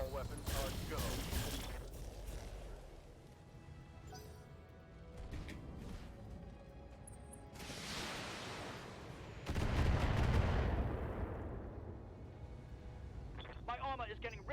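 Mech weapons in the BattleTech video game fire in bursts during an urban battle, rapid clattering volleys and a heavy roaring blast, mixed with mechanical clanks and spoken voices.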